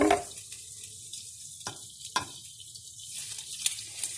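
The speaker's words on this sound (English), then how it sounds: "So just keep adding some oil because the eggplant really soaks up a lot of the oil." Eggplant slices frying in oil for Greek moussaka give a steady close hiss and sizzle, broken by a few sharp crackles and light pops, with no talking.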